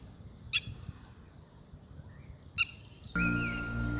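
Ground-nesting birds in Sri Lanka give two sharp, brief alarm calls a couple of seconds apart over quiet outdoor background, and a steady louder noise then cuts in.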